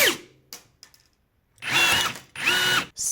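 Cordless rivet gun setting a 4.8 by 10 mm aluminium rivet: two loud, close bursts of motor whine, each about half a second long, with a few small clicks before them.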